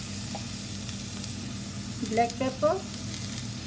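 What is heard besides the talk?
spinach sautéing in a pan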